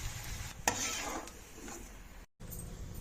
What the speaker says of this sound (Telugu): స్టవ్ ఫ్లేమ్ సిమ్లో పెట్టి పూరీని వేస్తున్నాను.